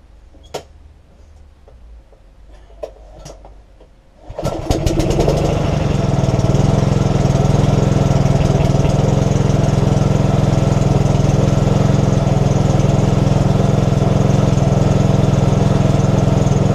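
A Briggs and Stratton SV150 engine on a Sovereign lawnmower starts after a few faint clicks and handling noises, then roars into a loud, steady close-up run that continues without talk.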